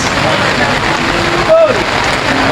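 Heavy rain pours down at the Lucena livestock auction market, a dense, continuous hiss of downpour on surfaces that stays loud throughout, with a brief voice cutting through.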